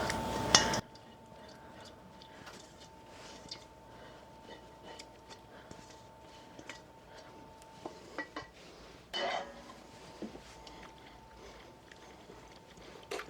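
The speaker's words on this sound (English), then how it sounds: "In goes the meat sauce." Spaghetti tossed with meat sauce in a pot on the stove, with faint soft mixing, scattered utensil clinks and scrapes, and a steady electrical hum throughout, fairly quiet and without talk.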